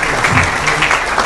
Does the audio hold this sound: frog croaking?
no